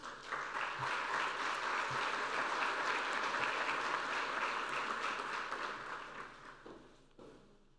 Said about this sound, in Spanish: Para ellos un aplauso, por favor.